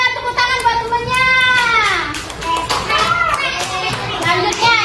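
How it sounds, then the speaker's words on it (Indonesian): Schoolchildren in a primary-school class clap for a classmate, their bursts of applause mixed with children's voices and an adult talking over them at close range. "Pintar, tepuk tangan buat temennya."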